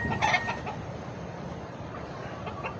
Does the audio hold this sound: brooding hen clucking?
yes